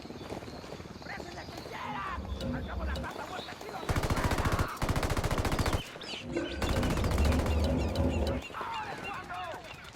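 Automatic gunfire in Tom Clancy's Ghost Recon Wildlands, two long, loud bursts of rapid shots separated by a brief pause, with scattered other sounds and voices between them.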